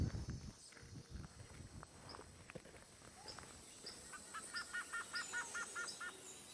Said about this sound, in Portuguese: Sem querer, acabamos acordando os passarinhos com a luz das nossas lanternas.